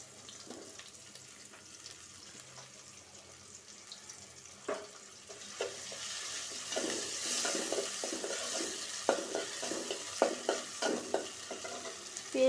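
Onions fry in oil for a catla fish curry with beans and potatoes, a quiet sizzle building steadily louder, broken by frequent spoon scrapes and stirring clatter close by.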